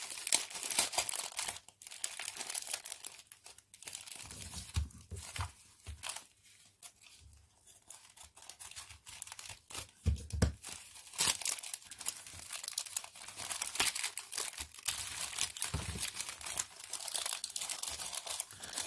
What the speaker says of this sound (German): Das sieht aus, als wäre das eine Tüte oder so. Das mache ich mal ganz vorsichtig auf.